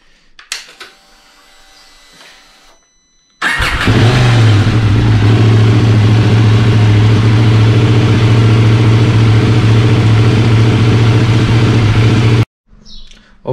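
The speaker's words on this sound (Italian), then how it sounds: "Adesso riscaldiamo la moto per 5 minuti." A KTM 790 Duke motorcycle engine starts and settles into a loud, steady warm-up idle with a strong low hum that holds for about nine seconds, then cuts off abruptly.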